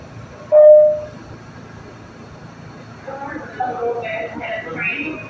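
A New York City subway A train running, with a short tone at the start, then low rumbling and rattling of the cars. An automated announcement voice speaks over the running train, close and moderately loud.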